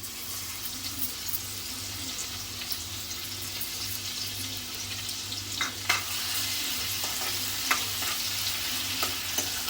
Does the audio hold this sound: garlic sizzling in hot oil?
yes